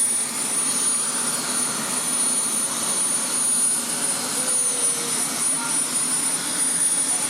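A helicopter on a sightseeing tour drones steadily nearby with a constant whine and broadband rotor roar, loud and unbroken throughout.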